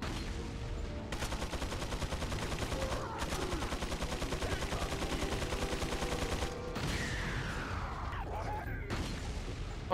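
Rapid sustained gunfire in Resident Evil 4 as a red barrel is shot, a dense loud rattle of shots running for several seconds with brief breaks and a crash-like burst afterward.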